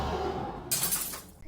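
Stones wreck a machine from inside with a sudden loud crash and clatter, a single sharp burst of breaking, shattering noise that quickly fades out.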